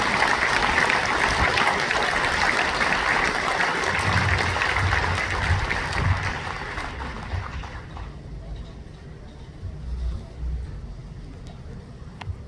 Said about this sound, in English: Can we just give Anthony one more round of applause because wow!